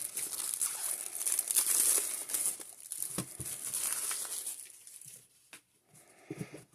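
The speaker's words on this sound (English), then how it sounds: "Have you ever tried to get the scissors underneath to open these without tearing what's in the package?" Plastic packaging from a Dollar Tree haul crinkles and crackles as scissors work underneath to open it, close-up rustling that comes in bursts and then quiets near the end.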